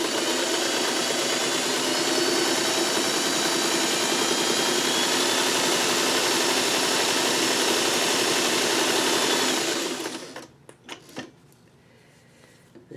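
A sewing machine stitches small fabric crumbs together with a steady, fairly loud mechanical whir that runs for about ten seconds, then stops, leaving a few light clicks and handling sounds.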